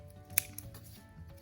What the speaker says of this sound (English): Just take a pair of scissors.